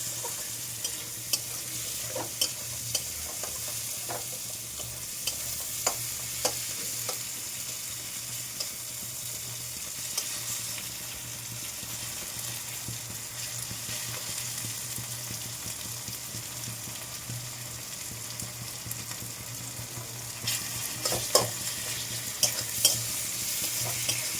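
Onion, garlic and chili fry steadily in a pan with a continuous sizzle, broken by scattered clicks and scrapes of stirring through the whole stretch, with a low steady hum underneath and no talking.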